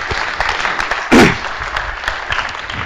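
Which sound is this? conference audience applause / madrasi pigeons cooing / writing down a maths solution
conference audience applause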